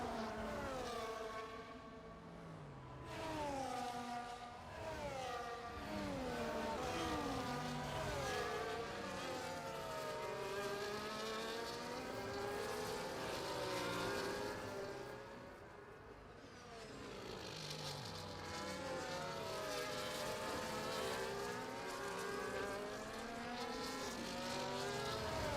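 The F1 24 video game field runs behind the safety car at Baku. A dense chorus of racing engines drones and swells continuously, with overlapping revs rising and falling and no voices.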